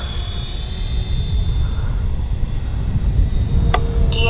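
RC OV-10 Bronco model plane flying by at about three-quarter throttle, its steady engine drone and whine running under wind noise, fairly loud throughout without any talking.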